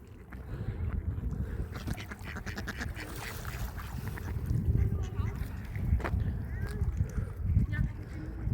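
Ducks quack repeatedly nearby on a lake amid outdoor noise, with people talking and low rumbling underneath throughout.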